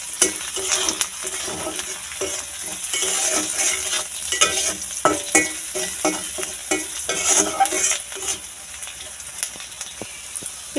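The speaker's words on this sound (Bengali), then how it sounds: "পেঁয়াজগুলো কিন্তু প্রায় ভাজা হয়ে গিয়েছে" Onions with a little turmeric fry in a pan at close range, a steady sizzle broken by frequent scraping and stirring strokes of a spatula.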